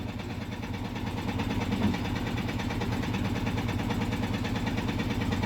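A vehicle engine idles close by in a steady, loud, even rumble with a regular pulsing throb, continuous for the whole stretch and with no voices over it.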